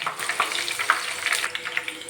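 Oil sizzles and crackles close up as curry leaves fry, with sharp spitting pops scattered over a steady hiss.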